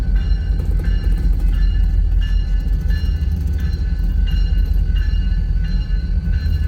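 A BN SD40 diesel locomotive rolls through Hobson Yard in Lincoln, Nebraska at night, its engine a loud, constant low rumble close by with steady rail noise and faint periodic squeals and clanks.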